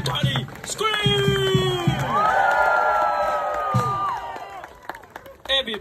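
Crowd at the Polynesian Cultural Center in Laie, Hawaii, screams and cheers loudly with clapping, under a steady swell of many voices and a few long rising and falling shouts.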